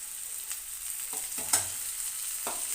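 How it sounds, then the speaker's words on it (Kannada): Raw bitter gourd pieces fry in tempering in a pan, giving a steady close sizzle broken by a few brief stirring scrapes and one sharp clack, with no talking. "ಫ್ರೈ ಆದಮೇಲೆ ಹಾಗಲಕಾಯಿನ ಹಾಕ್ಕೊತಾ ಇದ್ದೀನಿ ನಾನು. ಅದನ್ನು ಸ್ವಲ್ಪ ಒಗ್ಗರಣೆಯಲ್ಲೇ ಫ್ರೈ ಮಾಡ್ಕೋಬೇಕು."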